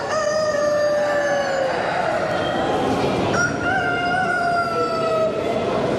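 A Sumatra rooster crows in long drawn-out calls at a crowded poultry exhibition in Bucharest, the sustained crows standing out over steady loud hall noise.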